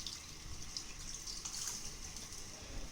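Liquid poured into a pot of fish curry, a soft continuous trickle and splash that stays faint and steady throughout.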